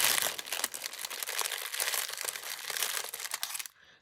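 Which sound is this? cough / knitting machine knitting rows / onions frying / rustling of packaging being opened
rustling of packaging being opened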